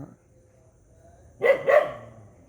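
A stray dog barks twice in quick succession, fairly close, after a quiet stretch with faint background hum.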